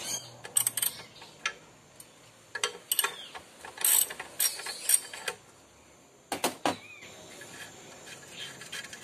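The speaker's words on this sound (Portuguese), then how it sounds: "Com a chave 12 aqui a gente vai tirar a porta da hélice do ventilador." A 12 mm wrench working the propeller nut on a Ventisol evaporative air cooler fan, giving irregular metallic clicks, ratcheting scrapes and taps in uneven bursts, close and fairly crisp with no talking.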